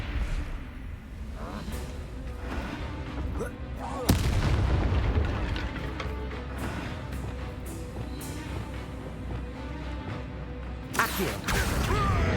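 Confringo fire spells from a Harry Potter video game blast in deep, heavy booms, with a strong hit near the start and another late, over a constant rumbling battle din.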